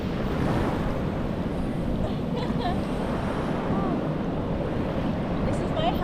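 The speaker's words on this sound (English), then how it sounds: "This beach looks perfect for swimming, sunbathing, eating, relaxing." Ocean surf rolls steadily onto a beach at Kuta, Lombok, a dense continuous wash of breaking waves mixed with wind rumbling across the microphone, with no clear voices.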